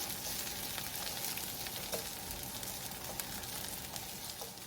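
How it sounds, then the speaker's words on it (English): Onions and garlic sizzle steadily in a hot oiled pan, a soft continuous crackle and spit with occasional faint stirring scrapes, no voices over it. "now the onions are getting sauteed down"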